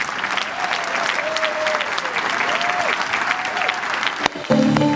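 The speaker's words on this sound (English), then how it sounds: "Let's give one final round of applause to everybody here." Closing round of applause from an audience at a Rotary polio-fight event, steady dense clapping through the whole stretch, with a short break near the end before louder sound resumes.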